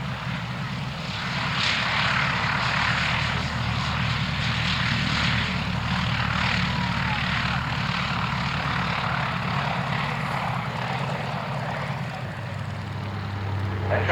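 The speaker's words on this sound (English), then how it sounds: "Genuine frontline aircraft, starting with the Gloucester Gladiator." A Gloster Gladiator biplane with its Bristol Mercury Mark IX radial engine flies at an evening air display at Shuttleworth, a continuous propeller drone at steady moderate volume, heard from a distance with no talk.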